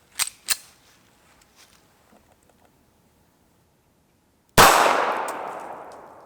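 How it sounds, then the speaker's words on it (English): A Sig Sauer P290 firing .380 ACP at a steel bank vault door: two sharp cracks early on, then after a pause a loud, close impact that leaves a long metallic ring slowly fading out. "Let's try the 380 ACP out of the Sig Sauer P290."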